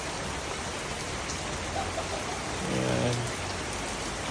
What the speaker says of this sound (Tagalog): Lakas ang ulan at may bagyo.